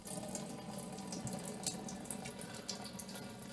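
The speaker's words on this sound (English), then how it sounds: "Right, the siphon has begun." Homemade Cabernet Sauvignon wine from a kit running through a siphon tube into a container, a steady soft trickling stream with faint splashes, continuous and fairly quiet.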